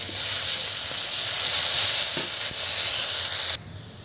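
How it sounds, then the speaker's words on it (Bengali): Green chili paste sizzles loudly in a hot kadai, a steady bright frying hiss that holds for about three and a half seconds before dropping off sharply. "এই যে বেটে রাখা কাঁচা লঙ্কা আমি এই যে কড়াইতে এবার আমি দিয়ে দেবো"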